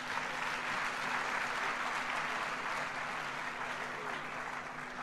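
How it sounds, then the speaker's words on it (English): An audience at a conference on election peace and justice applauds, sustained clapping from many hands filling the room at moderate distance, even and steady throughout. "they deserve a loud round of applause"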